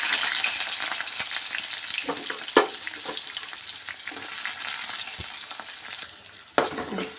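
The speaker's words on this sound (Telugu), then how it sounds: "ఆ తర్వాత పచ్చిమిర్చి ఉల్లిపాయ వేసుకుందాం" Steady frying sizzle of green chillies and onions in oil with occasional sharp clinks of a spoon stirring the pan, close and continuous, no voices.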